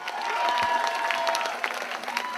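An audience at a poetry event in the British Virgin Islands gives a round of applause, a continuous wash of clapping from a crowd, fairly distant and even throughout.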